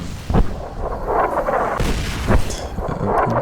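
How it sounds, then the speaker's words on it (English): Repeated booming blasts and crackling gunfire-like bursts from bombs exploding in a video game, dense and loud throughout with several sharp impacts standing out. "I'm currently being bombarded by bombs"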